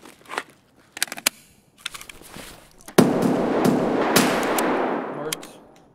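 Gunfire in the game Escape from Tarkov: scattered sharp shots early on, then a loud sustained burst of rapid automatic fire that keeps rattling to the end.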